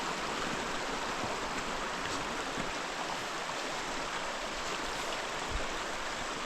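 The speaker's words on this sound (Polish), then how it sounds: "Mamy kolejny potok." Mountain stream in a Polish Tatra valley near Ciężka Turnia, flowing steadily past an icy trail by a footbridge: a constant broad rushing wash of water, close and loud, with no voices.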